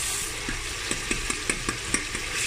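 Tomato frying in a pan for dhaba-style dal mash: a steady sizzle underneath a regular series of spoon scrapes and taps roughly every fifth of a second, close and clear, with no talk.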